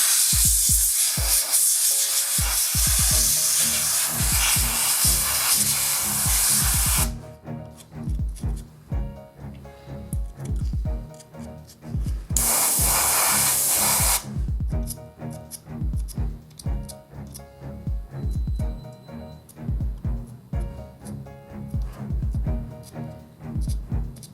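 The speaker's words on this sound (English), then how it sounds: "You can spray off the excess with your airbrush." Bursts of airy airbrush spray hiss loudly over a painted miniature model, one long blast then a shorter one, between stretches of quieter clicks and handling noises.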